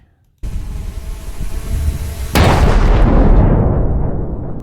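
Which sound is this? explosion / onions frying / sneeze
explosion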